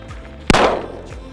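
A single sharp gunshot on a Texas ranch, one loud close crack with a short rolling tail.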